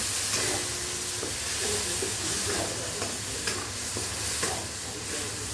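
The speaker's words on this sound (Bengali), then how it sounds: "পেঁয়াজ বাটাটা দিয়ে একটু কষে নেব" Onion paste with garlic and ginger frying in a pan for a prawn malai curry, a continuous loud sizzle broken by repeated scraping strokes of a spatula as it is stirred.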